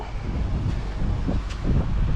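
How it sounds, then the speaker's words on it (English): Low rumbling wind buffets the microphone steadily, a gusty outdoor roar with no voices. "The wind's blowing like crazy."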